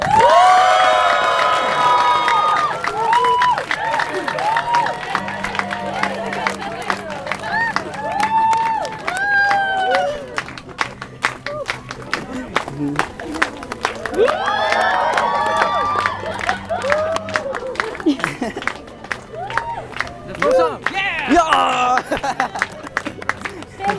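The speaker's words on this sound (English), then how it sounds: "Everybody cheer for them," Wedding guests at a Château-Vaudreuil hotel ceremony in Quebec cheer, whoop and clap for the newly married couple, loud crowd cheering rising in waves with children shouting and general hubbub throughout.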